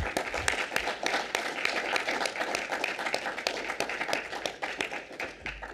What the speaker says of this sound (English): Let's give a round of applause for our chapter leaders who work so hard all year round